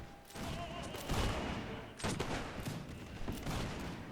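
Musket volleys in a Mount & Blade: Warband Napoleonic battle, ragged bursts of shots crackling close together with sharper cracks near one and two seconds and a rumbling background of more distant fire.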